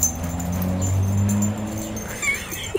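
A Leader Dog at play gives drawn-out, whining vocalizations close to the microphone, followed by a couple of faint squeaks and a small thump.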